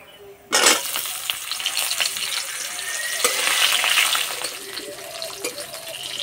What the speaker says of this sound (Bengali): এবার তেলে দিয়ে দেব।